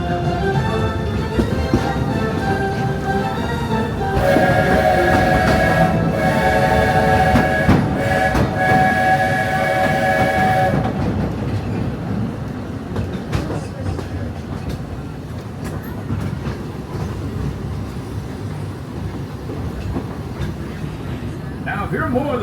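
Walt Disney World Railroad train rolling along its track through the park, a steady loud mechanical rumble with a sustained whistle-like tone for several seconds in the middle, then continuing rumble alone.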